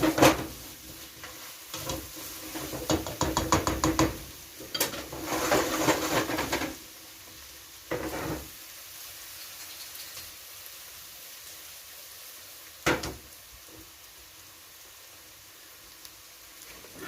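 Diced fresh tomatoes tipped into a pot of plant-based chili, a wet sloshing and sizzling burst with scraping and stirring, followed by quieter simmering and a few isolated clatters.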